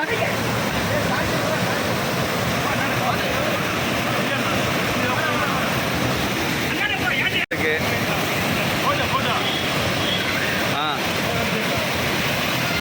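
A waterfall roars in a steady, dense, unbroken rush that fills the whole scene, with one brief dropout partway through.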